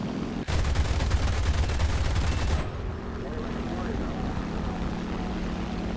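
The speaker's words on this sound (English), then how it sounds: "I decided to go for an attack and just use my speed and guns to get a quick kill and zoom away." An FW 190 A-4 fighter in the War Thunder game fires its guns in a loud, rapid burst of about two seconds, followed by the steady drone of the aircraft engine.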